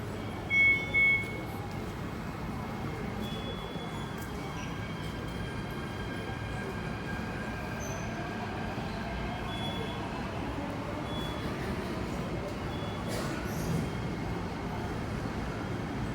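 On the Po Lam metro platform, a train rumbles steadily at moderate level with faint electronic tones above, and a couple of brief chimes near the start; no clear talk.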